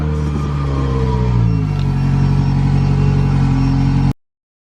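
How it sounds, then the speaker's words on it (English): Lexus LS400 engine running just after startup, a steady low idle with a brief rise in revs early on, close and fairly loud with no talk, ending abruptly. "just gonna start my car, let it warm up, and head on out"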